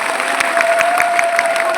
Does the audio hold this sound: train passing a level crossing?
no